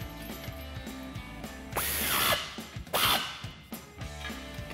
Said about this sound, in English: So take our ratchet.